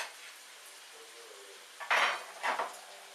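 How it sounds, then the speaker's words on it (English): Vegetables being stirred in a pan, with two sharp bursts of a utensil scraping and clanking against the pan over a faint background sizzle, close and brief, with no speech. "We're going to stir up our vegetables."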